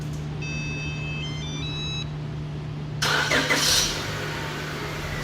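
A car starting by remote start: a series of electronic chime tones, then the engine cranks and catches at about three seconds and settles into an idle.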